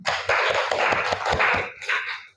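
A school class claps hands together in a dense burst of applause lasting a couple of seconds, then it fades out.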